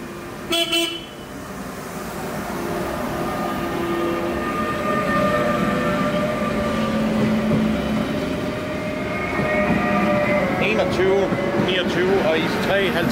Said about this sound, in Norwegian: Her har vi IR4-toget.